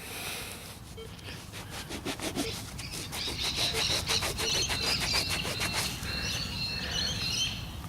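Scrubbing a crusty dug-up coin, likely a penny, found while metal detecting in a Sydney park: a steady, close rasping rub that repeats in quick strokes for several seconds, with faint high squeaks.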